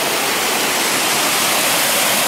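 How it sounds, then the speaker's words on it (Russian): A waterfall on a river in Yaremche, Ukraine, roars loud and close, a dense unbroken rush of falling water that fills the whole clip. "Продолжаем этот водопад,"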